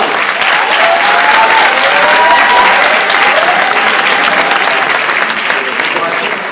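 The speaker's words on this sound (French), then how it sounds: "son président, Clément, que je vous demande d'applaudir" A crowd at a business school results ceremony bursts into loud, sustained applause, thick continuous clapping with a faint voice or two mixed in beneath it.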